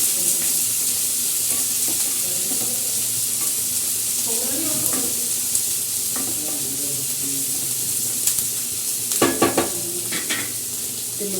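Onions frying in a pan of masala, with steady hiss of the oil and frequent scraping stirs of a spoon, a few sharper clatters near the end; no talking.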